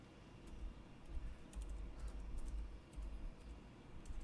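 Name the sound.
typing on a computer keyboard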